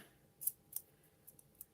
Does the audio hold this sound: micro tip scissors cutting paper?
yes